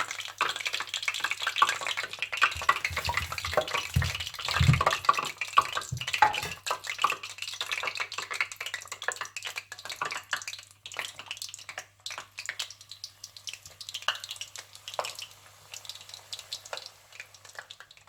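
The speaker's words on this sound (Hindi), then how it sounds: "इसी तरह से आप सारे रोल्स फ्राई कर लीजिएगा।" Chicken and vegetable rolls fry in hot oil with a steady, crackling sizzle that carries on evenly, close and moderately loud, with no talking.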